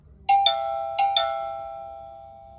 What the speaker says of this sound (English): now just hit the doorbell icon